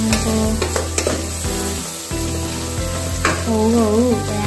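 Jackfruit kottu stirs and fries in a pan: a steady loud sizzle with repeated clattering scrapes and knocks of the utensil. A wavering tone rises over it near the end.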